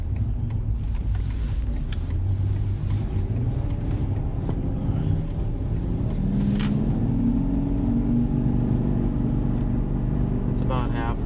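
Warmed-up VW Touareg V10 TDI diesel SUV engine held at about half throttle, a loud, steady low rumble that swells midway, with voices faintly present.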